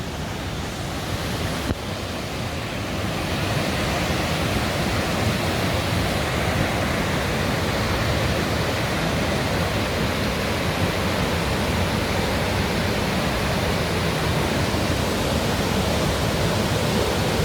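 A rushing river in Thailand, swollen and raging after days of heavy rain, gives a loud, continuous roar of churning water close by, steady throughout with no voices.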